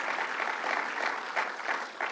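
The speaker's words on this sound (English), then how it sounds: "that deserves applause" Crowd applause at Governor Cuomo's Long Island middle-class tax fairness campaign event, with a short burst of even, dense clapping at moderate volume and a few sharper claps near the end.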